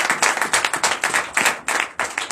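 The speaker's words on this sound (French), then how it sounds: "Que je vous demande d'applaudir très fort." A church congregation at a Sunday service in Benin claps loudly and rhythmically, the close, sharp bursts of many hands pulsing in a quick, uneven beat with short dips between waves, no speech over it.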